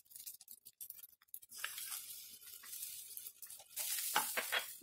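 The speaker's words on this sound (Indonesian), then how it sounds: "Kita aduk-aduk nasi gorengnya." Nasi goreng fried rice being stirred in a pan with sesame oil and oyster sauce: scraping stirs at first, then a steady loud sizzle with repeated scraping and tossing strokes, no voices.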